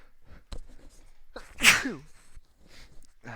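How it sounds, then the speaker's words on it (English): A single sharp, loud sneeze bursts out near the microphone, with quiet breathing and rustling before and after it. "got a sneeze coming"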